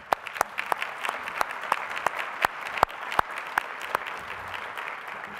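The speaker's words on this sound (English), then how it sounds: "let's give them a round of applause" A small crowd claps, with scattered sharp individual claps standing out over a steady patter of applause.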